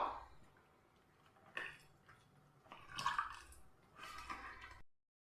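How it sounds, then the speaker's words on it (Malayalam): Water is poured into a wheat flour batter, giving faint, soft splashes and squelchy drips in a few short bursts, with quiet gaps between them. "വെള്ളം കൂടെ ഒഴിക്കുന്നുണ്ട്."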